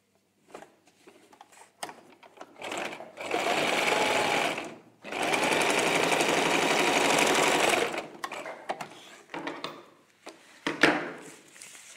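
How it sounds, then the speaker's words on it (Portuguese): A sewing machine stitches a seam on a child's dress, running in two sustained bursts of steady whirring with quiet handling and clicks between them. "agora vou costurar"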